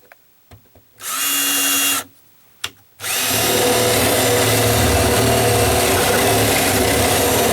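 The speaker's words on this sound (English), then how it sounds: "I'm just going to drill a hole through this." Close up, a battery-operated drill with a 3/4 inch paddle bit drills through deck wood: a short whirring trigger burst, a pause with faint knocks, then a long steady grinding run as the bit bites in.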